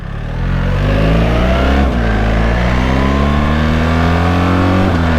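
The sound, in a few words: BMW 1300 GSA motorcycle engine accelerating and upshifting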